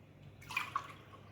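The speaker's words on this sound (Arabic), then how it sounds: "هنحط قدهم كوبايتين ميه" A cup of water is poured into a bowl for whipped cream made with unsweetened whipping cream. It makes a short, quiet splash lasting about half a second against a faint background hum, with no speech.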